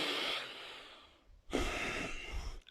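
Two deep breaths during a standing yoga pose, a long exhale trailing off into near silence, then a sharp inhale followed by a sustained airy breath out, close and alone.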